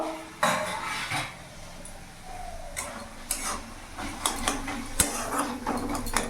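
A lid comes off a pot of tomatoes cooking on the stove with a sharp metallic clank, followed by scattered clinks and taps of utensils against the pan and a faint sizzle underneath.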